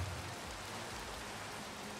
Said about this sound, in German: Oh mein Gott, das Regen